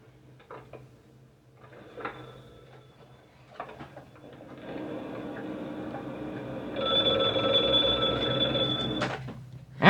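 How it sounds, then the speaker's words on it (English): A telephone rings in a Maltese Falcon radio drama scene. Quiet background movement and knocks lead into a loud, sustained bell ring in the last few seconds, with no talking. "Answer the phone."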